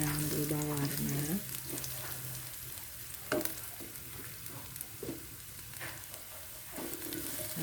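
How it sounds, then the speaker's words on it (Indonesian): Garlic sautés in a small amount of oil for Indonesian stir-fried water spinach with shrimp, a steady close sizzle with occasional stirring clatter throughout. "Saya hanya menggunakan sedikit minyak untuk menumis bawang putihnya. Ditumis sampai bawang putihnya harum dan berubah warna."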